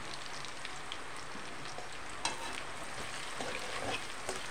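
Green chilli and a little turmeric frying in a pan for lemon rice, a steady close sizzle with light spoon-stirring scrapes and a few sharper clicks throughout, no voices.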